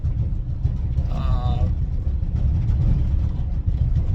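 A van hauling an empty car dolly drones with a loud, low rumbling road and engine noise throughout, close and steady, while someone talks over it.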